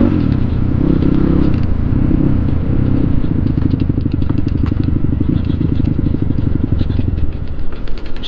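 A motorcycle rides along a road with a close, steady engine drone and a rapid, clattering pulse that runs throughout with no talking.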